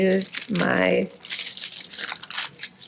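Tinfoil pieces being torn and crumpled for a foil tarantula craft, a close, busy crinkling and ripping that comes in dense bursts, with talking over part of it.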